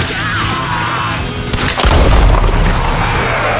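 A heavy gunshot in a video game lands as a deep, booming impact partway through, set against a loud, dense bed of game noise.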